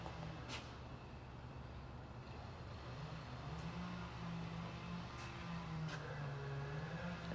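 A 1966 Ford Mustang GT Fastback with a three-speed runs at a steady, low idle, its deep engine rumble continuous and close throughout with no talking.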